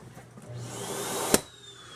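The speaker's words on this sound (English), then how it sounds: "We're going to check your vacuum system, which I'll show you right now." Central vacuum system in a 2010 KZ Durango 355BH fifth wheel RV, running as a steady airy whine and rush at close range, with one sharp click partway through and no talk.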